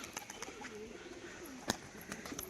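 A male pigeon coos softly in a loft, low rolling coos repeated under faint wing flutters and a few sharp clicks, with no voices.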